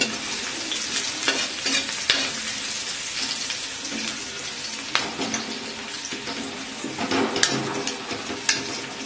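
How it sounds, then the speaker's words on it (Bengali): Chopped onion fries in oil as ginger-garlic paste goes into the pan, a steady close sizzle broken by repeated scraping stirs for a pomfret fish curry. "পেঁয়াজটা কিছু ভাজা হয়ে এসেছে, এবার দিয়ে দিচ্ছি আদা আর রসুন বাটা"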